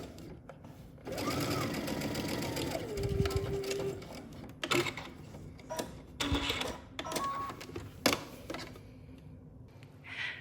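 Sewing machine running close by, stitching a double-folded dress piece in bursts of rapid stitching separated by short pauses and small clicks, with no talk.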